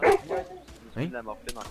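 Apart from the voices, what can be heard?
dog barking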